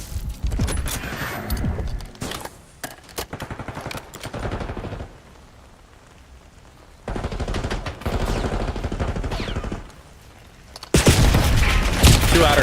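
Bursts of automatic and single-shot gunfire from a Call of Duty esports match come in loud clusters separated by quieter gaps, with a heavy barrage near the end.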